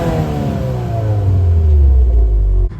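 Turbocharged engine of a 2024 Subaru WRX with six-speed manual revs out while driving, a loud, rising mechanical drone with climbing tones and steady low rumble, close up, cutting off abruptly near the end.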